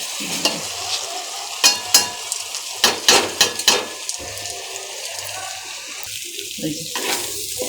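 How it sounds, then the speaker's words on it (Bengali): Rice and red lentils washed together in a pot under running water make rushing, splashing water with loud swishes and clattering bursts as the grains are stirred by hand, close up and without talking. "এখন আমি চাল আর মসুর ডাল একসঙ্গে ধোয়া দিয়ে দিব"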